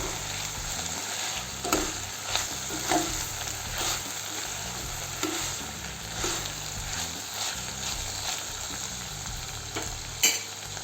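Hyacinth bean pods cooking as a vegetable dish in a pan over low heat make a steady close sizzle. Repeated louder scrapes and clatters come as they are stirred.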